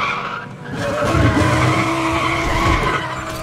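Tires squeal in a sustained skid as a race car drifts through tight, foggy snow-covered curves in Need For Speed The Run, with the engine droning loudly underneath throughout.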